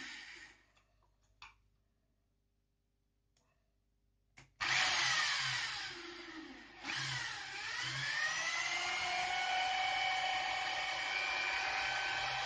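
A power drill bores a hole while a steam-room bath accessory is built by hand, starting after a few faint knocks and quiet handling, then a loud, steady whine that dips briefly as it bites and then runs continuously to the end.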